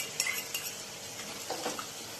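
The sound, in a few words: stirring and sautéing chana potato curry masala in pan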